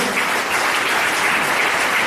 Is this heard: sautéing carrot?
no